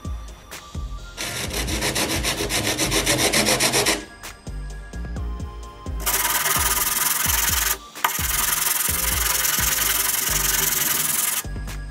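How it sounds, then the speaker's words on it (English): Rhythmic back-and-forth scraping of sandpaper on a wooden door, two long bursts of brisk strokes separated by a brief pause, close and loud. "you just start sanding down until you get most of it off"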